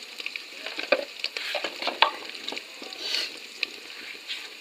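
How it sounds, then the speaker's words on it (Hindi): Onions fry in oil for aloo palak, a close, continuous sizzle broken by repeated scraping and clinking strokes of a spoon stirring them in the pan. "अब प्याज लाल करूँगी।"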